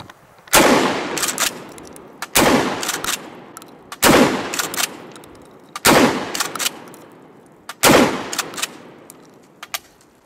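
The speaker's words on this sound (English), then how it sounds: "Kel-Tec Ksg. A very effective 12 gauge for home defense." A Kel-Tec KSG 12 gauge pump shotgun fires five loud, close shots in an even rhythm about every two seconds, each blast followed by a short echoing tail.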